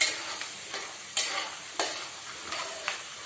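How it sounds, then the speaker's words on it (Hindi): Poha frying in hot oil in a home kitchen while being stirred, a steady soft sizzle punctuated by regular scraping strokes of the spoon against the pan, with no talking. "अच्छे से भून दो, घुमाते रहो जब तक भुने"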